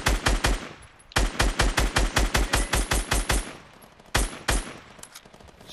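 Gunfire in the video game Fortnite, loud bursts of rapid automatic shots in several volleys with short gaps between them, close and without speech.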